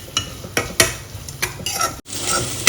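Garlic is sautéed in a pan for prawn rice, with a utensil scraping and stirring in a few distinct strokes over a soft sizzle, close and fairly loud, then a short pause before the frying continues.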